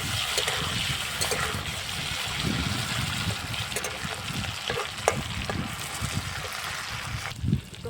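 Fish frying in oil over a wood fire outdoors, a steady dense crackling sizzle running throughout with small pops and stirring scrapes, fairly close and even in level, no talking.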